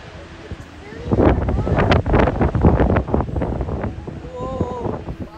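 Strong seaside wind at a rocky beach lookout on Phillip Island buffets the microphone with rumbling gusts, while voices can be heard through the blowing.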